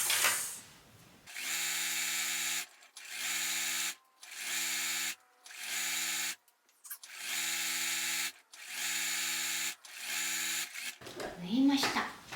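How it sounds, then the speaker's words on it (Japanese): A sewing machine stitches the edges of fabric bag handles in about seven bursts of whirring, each run lasting roughly a second, separated by short pauses, with a brief rustle of handling at the end. "持ち手の端っこを縫っていきます。"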